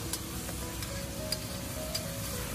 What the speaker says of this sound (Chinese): 在炒制的过程中，可以往里面加入一小勺食用盐，提前给辣椒入个底味，大概给它翻炒一分钟左右